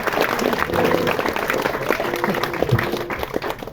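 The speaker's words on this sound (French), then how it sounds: "vous pouvez vous applaudir" An audience claps at an in-store album showcase at the Fnac Saint-Lazare in Paris, a dense, steady wash of applause lasting the whole moment, with a faint voice and some tonal background sound mixed in.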